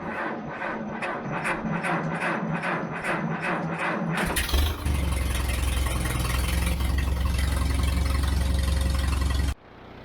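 An IH McCormick Farmall 350 tractor engine cranks with repeated rhythmic pulses, catches around the midpoint, and settles into a loud, steady low rumble before cutting off abruptly near the end.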